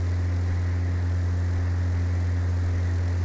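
A steady, droning aircraft engine hum from a plane taking off in Flight Simulator X, a constant low tone with faint harmonics, unchanging and alone throughout.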